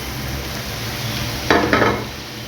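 Chopped onions fry in an oiled pan with a continuous close sizzle, broken by two scraping strokes of a spatula stirring them around; no one speaks.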